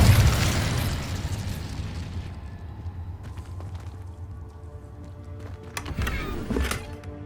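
Incendio fire spell from Hogwarts Legacy bursts in a loud whooshing blast that fades into a long rumbling tail, followed by a few sharp crackling pops near the end.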